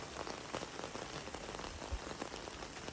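Rain falling on a wet day during a septic inspection in West Sonoma County, near Cazadero: a continuous close patter of drops on surfaces with occasional heavier plops, with no voices.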